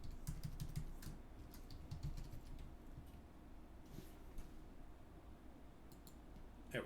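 Password being typed on a computer keyboard: a steady run of light, fairly close key clicks with a brief pause midway, over a low background hum.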